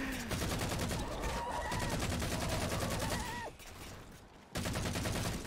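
Dense, rapid assault rifle gunfire from Halo 4 Flood mode rattles almost nonstop, dips briefly in a short lull, then resumes at full loudness, with a faint tonal game sound running underneath.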